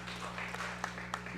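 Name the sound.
applause for Chocolatito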